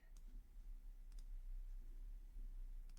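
A computer mouse clicks while someone works in Canva, three faint, sharp clicks spaced about a second apart over a quiet room hum.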